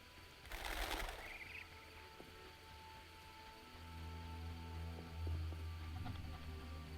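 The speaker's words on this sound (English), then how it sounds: "Pigeons!" Pigeons coo in a village in The Witcher video game, faint and distant over soft ambient background, with a brief flutter-like burst early on and low cooing calls later.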